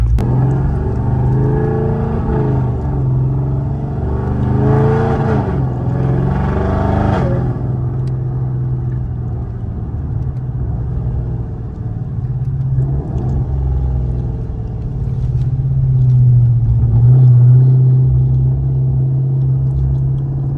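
A supercharged Dodge Charger R/T under way, its engine giving a loud, steady low rumble with a brief rising rev in the first seconds, then a constant cruising drone.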